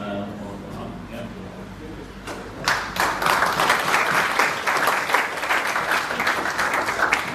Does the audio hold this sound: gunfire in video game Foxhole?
no